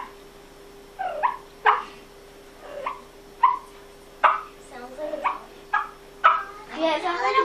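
A turkey call imitates a contented wild turkey with a series of short, separate clucks and yelps, close and clear, spaced irregularly and ending in a quicker run of notes.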